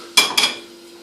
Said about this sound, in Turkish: Tavamızı aldık.